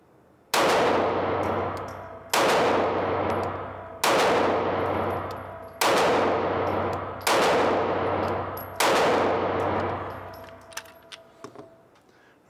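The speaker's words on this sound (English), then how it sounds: "this is our first 100 rounds through the Taurus G2C. It's running great. It's a joy to shoot" Six loud, sharp pistol shots from a Taurus G2C at a shooting range, fired at an even unhurried pace, each with a ringing decay, followed by small metallic clinks.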